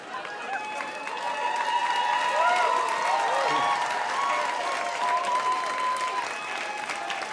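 Large crowd applauding and cheering, a steady continuous wash of noise at constant loudness, with whistles and voices rising and falling within it.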